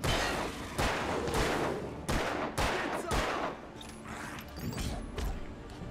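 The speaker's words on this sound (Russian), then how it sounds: "Стреляй в них уже, япона мать!" Gunfire in the video game Alan Wake: a string of loud, sharp shots spaced roughly every half second to second, each cracking out and decaying over a murky background, with no talk over them.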